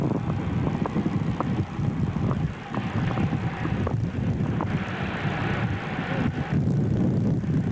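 An aircraft engine roars at full power on a carrier flight deck, a loud continuous rumble buffeted by wind noise with faint rattles mixed in.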